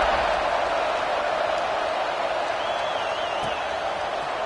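Stadium crowd in the College Football 26 video game, a steady roaring cheer at kickoff that stays loud and sustained throughout.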